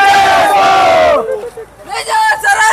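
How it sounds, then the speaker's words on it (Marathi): A crowd at a Ganesh festival celebration in Shirur cheers loudly, with a long chanted shout followed by a shorter second burst of voices rising together, close and energetic. "आता जल्लोष तुम्ही पाहू शकताय."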